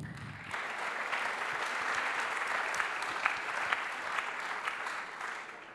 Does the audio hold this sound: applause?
yes